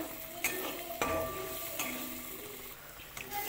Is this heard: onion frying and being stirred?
yes